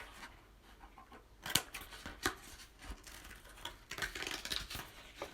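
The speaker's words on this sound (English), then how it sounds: "So I'm going to cut that out now." Scissors snip through paper while a thick flower stalk is cut out, giving a few crisp, irregular cuts with rustling in between. The sound is close and quiet.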